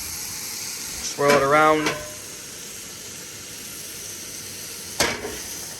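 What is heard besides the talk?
oil sizzling in a smoking cast iron pan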